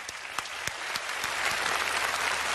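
A crowd applauds a singer at a live stage show, with steady dense clapping that swells slightly and some sharper individual claps standing out near the start.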